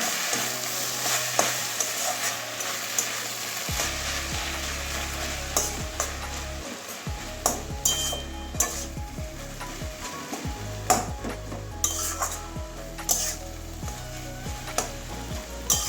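Water spinach frying in a pan with nigella seeds, a steady sizzle broken by repeated sharp scrapes and clicks of a spatula stirring, close up with no talking.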